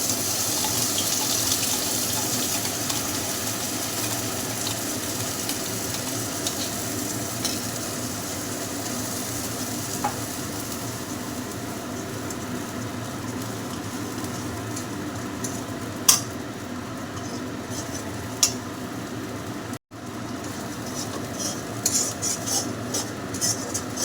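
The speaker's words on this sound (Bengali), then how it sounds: "কড়াইয়ে তেল গরম হয়েছে, আমি এই মশলাটা একটু ভেজে নিব।" A paste of shidol, green chilli and garlic fries in hot oil in a kadai, a steady close sizzle running throughout with a few sharp clinks and taps of a utensil; no talking.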